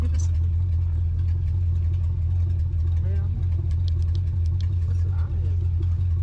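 A 1980 Chevrolet Camaro runs on its first drive in a decade, just after carburettor and gas tank work, its engine a steady low rumble heard from inside the car, with faint clicks and rattles over it.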